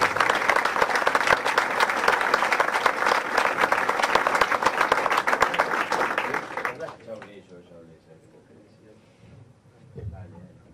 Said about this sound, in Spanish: un aplauso para Guillermo y vamos a escucharlo